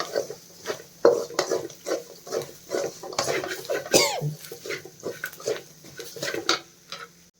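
Grated coconut is fried and stirred in a pan, giving repeated scraping and tapping of a spoon against metal in an irregular rhythm, close by, with a voice talking over it.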